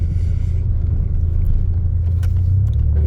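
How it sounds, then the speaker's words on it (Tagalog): Mitsubishi Mirage G4 with a bassy chamber muffler and the resonator removed, cruising on an expressway: a steady, deep exhaust drone with low rumble, loud and continuous, swelling slightly toward the end. "yung sinadya sa akin is chamber muffler na bassy"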